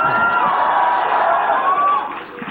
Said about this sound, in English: I don't know if I've been saying the wrong thing or the right thing, but they are cheering me.